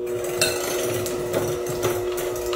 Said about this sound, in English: I'm going to use an electric mixer for this